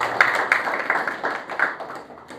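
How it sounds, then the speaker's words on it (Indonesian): Church congregation clapping during an Indonesian sermon, a modest, fairly sparse round of applause with distinct individual claps close by, fading toward the end. "Beri tepuk tangan untuk ayat ini"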